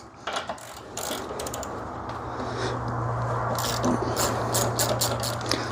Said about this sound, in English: we're going to grab our 10mm socket. We're going to disconnect our negative.